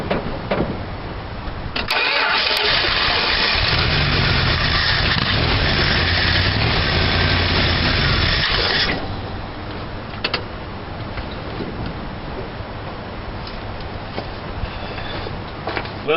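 A 1978 Dodge Power Wagon engine cranks briefly, catches, and roars up loud and close with a freshly rebuilt carburetor, then settles into a steady, rumbling idle for the remaining seconds.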